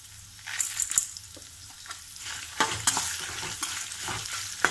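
Ginger with tamarind and salt fries in a pan for chutney: a close, uneven sizzle punctuated by sharp scrapes and clinks as the mixture is stirred, with no talking.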